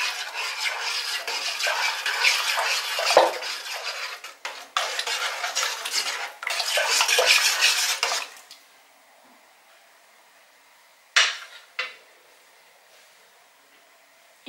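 Ingredients for żurek are stirred vigorously into broth in a pot, a busy scraping and clinking of utensil against the pot for about eight seconds, then quiet with two brief knocks near the end.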